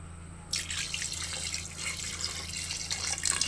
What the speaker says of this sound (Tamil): இப்போ இதில் வந்து தண்ணி ஊற்றிக்கலாம்